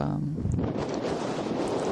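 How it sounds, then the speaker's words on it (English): Strong wind gusting around a 300W three-blade wind turbine in gusts up to 108 km/h, a continuous roaring rush buffeting the microphone, loud and close with a faint whine in the first moments. "it really was getting close to gusting to the limit of the wind turbine"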